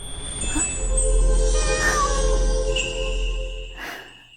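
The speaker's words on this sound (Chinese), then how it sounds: "猫咪，出生时间3年前。" A cat meows several times in a drawn-out, insistent way, close and fairly loud over a low background hum, with no talking.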